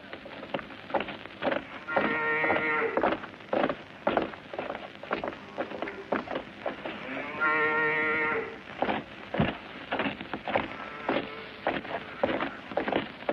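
Cows moo twice in long, low calls over a background of patter and scattered knocks, with no talking.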